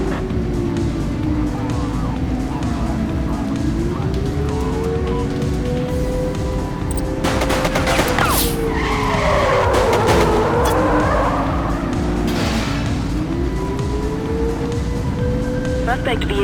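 Car tires skidding with a revving engine and gunfire in the police video game The Precinct, a continuous loud drone with screeching sweeps, game radio voices talking over it.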